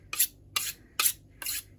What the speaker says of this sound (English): a few strokes up and down like that is enough to keep that blade nice and sharp for a long time